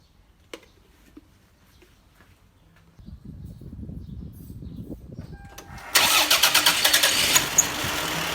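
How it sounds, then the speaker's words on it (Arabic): A car engine cranks and catches after a quiet stretch, settling into a steady idle close by, during a gearbox oil change. No one speaks. "نشغل السيارة ونحرك الجير في كل الوضعيات."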